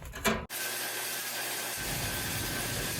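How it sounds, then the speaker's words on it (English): A milling machine used as a drill press on small aluminum pieces, giving a steady broadband mechanical whir that runs on after a brief scraping noise at the start, close and continuous. "Here I'm just using the mill as a drill press."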